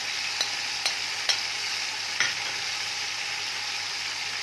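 Tamarind pulp, tomato and spices for chana pulao are stirred in a sizzling pan, with a few sharp spoon knocks against the metal over a continuous frying hiss and no voices.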